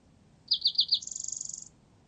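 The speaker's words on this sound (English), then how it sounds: "Yo, that bird." A bird in the game DayZ gives four sharp, high chirps, then a quick run of rapid trilling notes, clear against faint background ambience.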